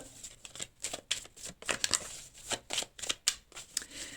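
Tarot cards riffle and snap in a rapid, irregular burst of crisp shuffling, close and clear with no voice over it.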